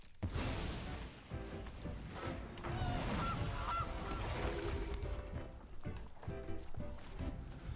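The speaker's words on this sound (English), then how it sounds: "Oh, the goose!" Video game goose sound effect, a series of loud nasal honks repeating over several seconds against busy game audio.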